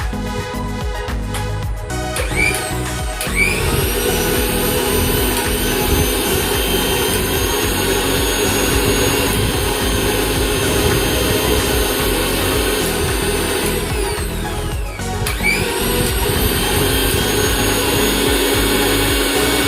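A 750-watt mixer grinder fitted with a new motor runs on a power test. Its loud, close, steady whine rises twice as the motor spins up, and it drones almost the whole time.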